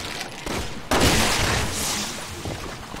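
A gunshot in Resident Evil 6, during Leon's campaign, hits as a sharp, loud blast about a second in. A noisy, crackling tail and scattered game sounds follow.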